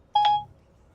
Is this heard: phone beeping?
yes